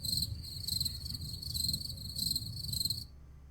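A cricket chirping sound effect played from a soundboard button: about five quick, bright chirp bursts repeat evenly over a low background rumble, then stop abruptly.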